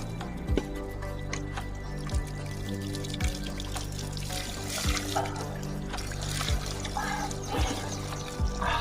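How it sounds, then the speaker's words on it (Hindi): A small trickle of water in a jungle, a soft continuous dribble with occasional drips and splashes, close by, with no talk over it. "और कभी हमें किसी जंगल में सिर्फ इतना सा पानी मिलता है, बस ये।"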